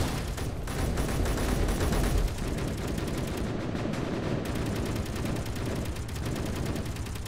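Rapid automatic gunfire in the game Space Engineers rattles on without a break, a fast stream of sharp shots forming sustained bursts, with one heavier thump near the start.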